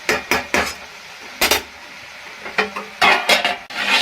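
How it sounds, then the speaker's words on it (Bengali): A metal lid clatters onto a cooking pot during preparation of a Bengali bottle gourd ghonto with fish head, several sharp close clanks in quick bursts separated by short pauses. "এরপরে আবারও আমি একবার ঢাকা দিয়ে দেবো"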